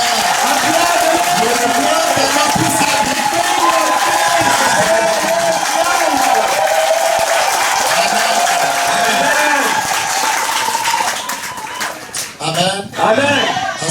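A church congregation cheers and acclaims the Lord Jesus Christ during a prayer service, a sustained loud roar of crowd voices with whoops and clapping that thins out near the end.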